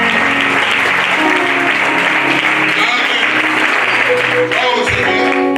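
A church congregation applauds during a French-language service, a dense continuous clapping that holds loud throughout, with voices calling out underneath.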